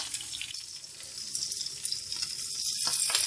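Sliced green chillies and coriander fry in a pan for Pakistani mash ki daal, giving a steady, soft sizzle close by with no talking.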